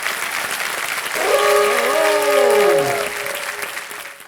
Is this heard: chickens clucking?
no